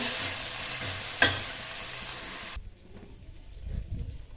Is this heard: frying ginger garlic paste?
yes